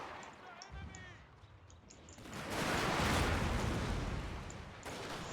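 Artillery fire in a strategy video game: a heavy, rumbling boom swells midway and rolls on for a couple of seconds over a low battle bed, with faint chiming game effects before it.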